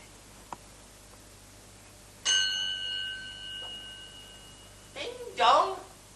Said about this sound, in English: Ding dong, the hour itself and nothing else.